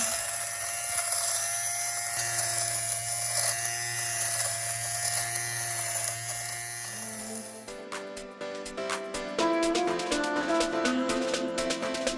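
An electric fabric shaver buzzes over clothing to remove pilling, a close, steady motor whir that shifts partway through into a choppier, pulsing tone as it moves across the fabric.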